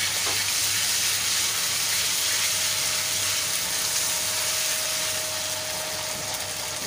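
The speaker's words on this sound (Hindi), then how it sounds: "अब इसमें हम अदरक लहसुन डालेंगे" Ginger-garlic paste frying with lightly browned onions in a pan, a steady dense sizzle that runs unbroken and fairly loud throughout, with a faint tonal hum underneath.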